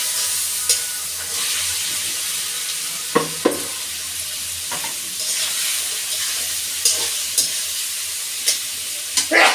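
Tomatoes frying in a pan in a village kitchen, a steady close sizzle broken by several sharp scraping stirs.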